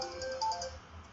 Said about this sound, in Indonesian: Sebentar, saya ada telepon, bentar.